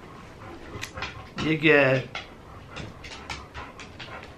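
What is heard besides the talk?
dog whimpering and panting in the background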